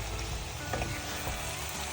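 Fish sizzles and fries steadily in a hot pan of oil, a continuous close crackle with no break.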